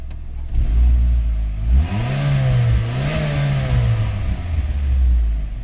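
Engine of a 2006 Saturn Vue revved several times from idle, pitch rising and falling in close, loud swells with a clattery rasp, settling back to a low idle between revs.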